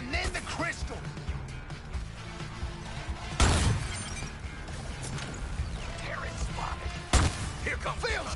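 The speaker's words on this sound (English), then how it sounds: "Feels good smashing shit up." Crystal smashed in the Suicide Squad video game, two sharp loud shattering crashes a few seconds apart over busy game music and effects, with a voice talking.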